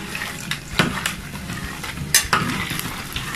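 A spoon stirs cauliflower florets through a wet tempura-style batter in a bowl, giving soft, sticky scraping and clinking strokes, with a few sharper taps against the bowl, close and moderately loud.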